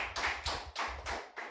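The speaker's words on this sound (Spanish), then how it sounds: "Dele fuerte aplauso al Señor" A church congregation claps in short bursts, a rhythmic run of hand claps that is fairly faint and slightly distant, with no talk over it.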